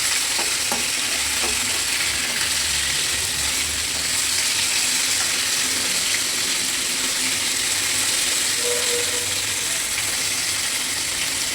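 Cumin seeds and dried red chilli fry in hot oil with a loud, steady sizzle and some stirring scrapes near the start, no voices over it.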